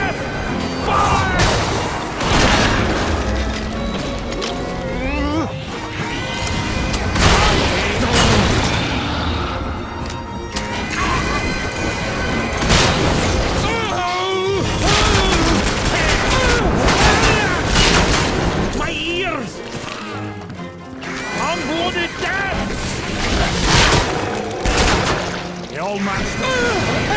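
Gunfire fills a Killing Floor 2 firefight, with dense, repeated gunshots and booming blasts that stay loud and almost constant throughout. Game effects and players' shouting come through in the mix.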